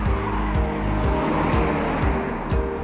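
Traffic on a quiet night street in Haenam, a coastal city on the East China Sea in South Korea: a steady, loud car rumble with faint rhythmic thumps from tires rolling by, and no talking.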